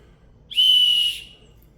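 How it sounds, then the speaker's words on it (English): One short, shrill blast from a dual-chambered survival whistle: a single piercing tone lasting about half a second, heard up close against a quiet background. "So this looks like another, some sort of dual chambered whistle."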